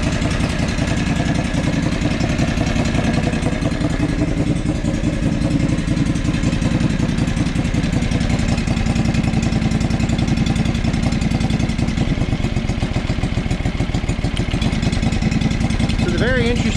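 A John Deere 445 tractor engine runs with its coils or spark plug wires pulled, a steady loud uneven chugging idle that continues throughout without a break.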